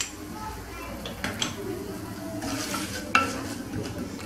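Chopped onion frying in olive oil in a pot, a low sizzle under repeated stirring scrapes and occasional clinks of a spoon on the metal, heard up close with some background voice.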